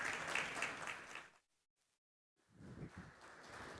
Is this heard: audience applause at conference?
yes